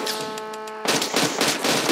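A steady tone in Roblox cuts off into a fast, dense burst of automatic gunfire that carries on loud and rattling to the end.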